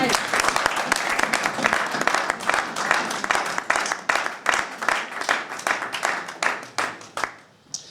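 A church congregation applauding: dense, loud clapping from many hands that holds steady, then thins toward the end into scattered separate claps before fading out.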